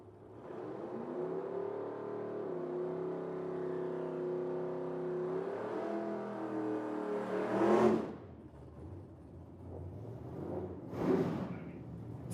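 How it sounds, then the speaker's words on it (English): Mustangs at a drag strip in Medicine Hat doing burnouts, a sustained loud engine roar with tire noise, swelling into two sharp revving bursts near the end, no talk over it. "First pair got the burnouts done, ready to roll into the beams."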